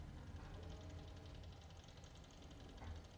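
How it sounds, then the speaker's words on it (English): A steady low mechanical hum with faint whirring, continuous and unchanging throughout, like a nearby computer fan running. "you likely hear my computer fan"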